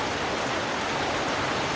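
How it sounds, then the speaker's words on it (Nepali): Rain falls steadily at Dudhe, Nepal, during a motorbike ride: a soft, even hiss with no gaps and no talk. "पानी पर्दैछ"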